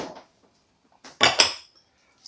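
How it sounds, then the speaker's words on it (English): Potato salad ingredients are tipped into a bowl with a few brief clatters, one quick knock followed by a louder double clink of utensil and dish, with near silence between. "Now that I have all of my potatoes, we'll just dump everything in"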